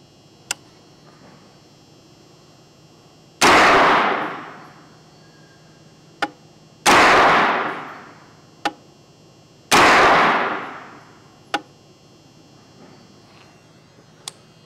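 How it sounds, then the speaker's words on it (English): Three loud 9mm rifle shots firing Gecko 124 grain rounds at a 100-yard range, each a sharp blast with a decaying tail, spaced a few seconds apart, with fainter distant pops from other shooters in between. "I'm going to put a few rounds of Gecko 124 grain downrange, and this is at 100 yards."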